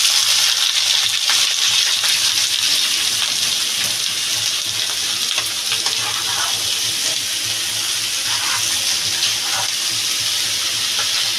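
Pieces of kushi hit hot oil in a pan, giving a loud, steady, broadband sizzle that hisses continuously with no talking.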